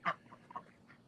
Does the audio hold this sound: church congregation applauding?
no